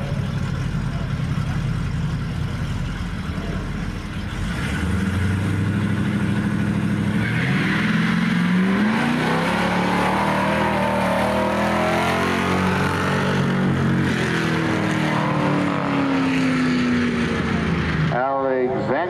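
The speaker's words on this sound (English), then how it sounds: "ean Alexander Fulbrook fills the right lane, the 58 Dodge alongside the Chevrolet." A 1958 Dodge truck drag racing a Chevrolet at Barona Drag Strip, engines roaring loud and close with a rising rev sweep mid-run, a track announcer talking over the noise throughout.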